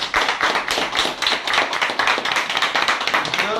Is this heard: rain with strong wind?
no